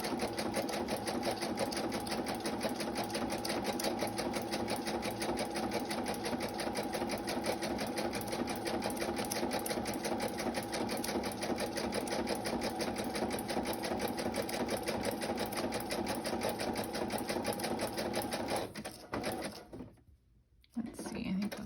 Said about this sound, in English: my sewing machine is goofing up a little bit, and if I sew too fast on it, it skips stitches